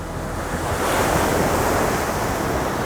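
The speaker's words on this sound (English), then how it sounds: "Back to back waves, rolling water, conditions are tough." Big ocean waves crash against Market Pier in tough, rolling conditions, a loud continuous surf roar with wind buffeting the microphone, building slightly midway and no voices.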